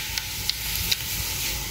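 A tempering of garlic and cumin in hot oil for dal makes a close, steady sizzle, broken by three soft taps or stirs in quick succession.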